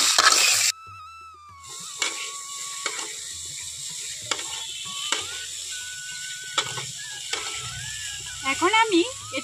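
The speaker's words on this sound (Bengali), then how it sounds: "এখন সবগুলো খুব ভালোভাবেই আমি কিন্তু নাড়াচাড়া করে তেলের মধ্যে ভেজে নেব।" Vegetables stirred and fried in hot oil in a pan, with a steady sizzle broken by repeated spatula scrapes and knocks against the pan, and a faint tonal hum in the background.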